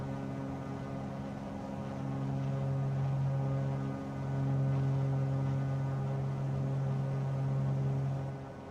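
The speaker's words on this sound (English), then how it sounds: "It's nice to have engine sound again" Aircraft engine in Microsoft Flight Simulator 2024: a steady, droning low hum with strong tonal layers runs unbroken and fairly loud for several seconds, swelling slightly midway, with no voices.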